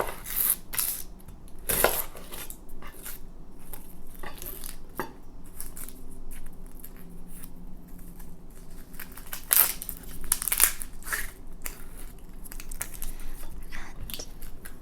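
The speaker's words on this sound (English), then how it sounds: "I'm using half of this onion, and I'm just going to remove the skin." Half an onion being peeled by hand, its dry papery skin crackling and tearing in soft, close, intermittent bursts with a few sharper snaps, for kimchi preparation in a quiet kitchen.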